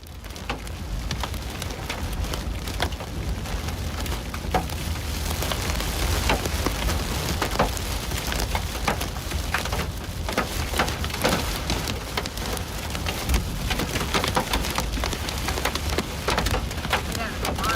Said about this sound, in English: Sounds like they're getting hit hard with some pretty big hail right now